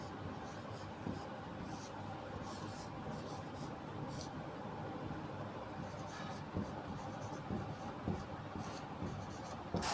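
Pen strokes scratch across a notebook page as a math solution is written out, faint close scribbling in uneven bursts that continues for several seconds, with talk heard only intermittently.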